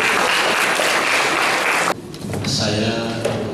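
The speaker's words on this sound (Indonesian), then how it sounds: "mohon beri aplaus yang mulia" An audience claps in a dense, loud wash at a book launch gathering, the applause cutting off abruptly partway through and giving way to quieter room sound and a voice.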